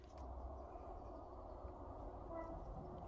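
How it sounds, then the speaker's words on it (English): A train passes far off across muddy flats at dusk, heard as a faint, steady low rumble that holds for the whole stretch with no voices over it. "oh, there's a train in the distance"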